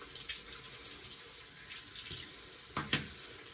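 Water runs steadily from a bathroom tap while a 1965 Gillette safety razor is rinsed clean, a continuous close splashing hiss with a brief louder gush near the end as the razor passes under the stream.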